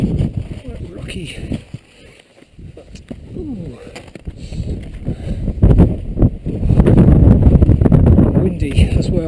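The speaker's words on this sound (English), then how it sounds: "Windy as well." Gusty wind buffets the microphone on a rocky mountain trail at Twin Sisters Peak in Rocky Mountain National Park, with a loud low rumble that dips briefly and then builds stronger toward the end.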